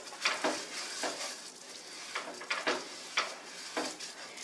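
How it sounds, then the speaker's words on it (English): Rice for Spanish rice sizzles and browns in oil, with a constant frying hiss and a few distinct scrapes of a utensil stirring the pan, close and without talk. "You want to stir it very consistently until the rice starts to brown"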